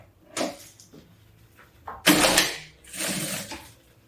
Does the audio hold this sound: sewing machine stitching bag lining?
yes